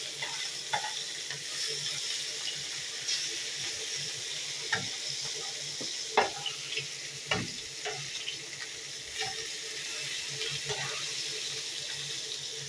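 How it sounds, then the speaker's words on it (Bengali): Fish frying in a pan makes a soft, steady sizzle with scattered crackles and pops, fairly quiet and continuous throughout. "মাছটি ভাজা হয়ে যাবে।"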